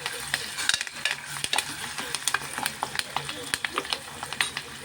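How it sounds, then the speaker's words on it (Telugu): Curry leaves and onions sizzle steadily in hot oil, with repeated scraping clicks of a spoon stirring the pan close by. "కరివేపాకు కూడా వేసేసి ఫ్రై చేసుకుంటున్నాను"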